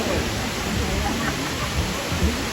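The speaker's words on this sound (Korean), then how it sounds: "용연폭포 물소리가 웅장하고 시원합니다." Yongyeon Falls, a two-tiered twin-stream waterfall in Juwang valley, roars as a dense, loud, unbroken wash of water close by, with no pauses.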